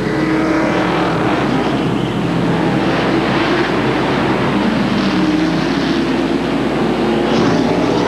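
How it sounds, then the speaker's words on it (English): NASCAR stock cars leave pit road at North Wilkesboro during the 1996 Tyson Holly Farms 400, a loud, continuous wash of engine roar heard from a distance with no voices over it. "Dale Jarrett has left the back of pit road and is on his way. Now Martin leaves"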